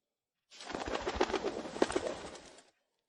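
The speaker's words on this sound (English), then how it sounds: "A carrier pigeon?" A carrier pigeon gives a short, fairly loud burst of cooing and fluttering that lasts about two seconds against otherwise quiet surroundings, with no talk.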